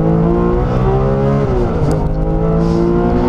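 A Porsche 911R's engine drones loudly and steadily from inside the car while driving, its pitch holding, dipping briefly with a gear change and climbing again, with no talk over it.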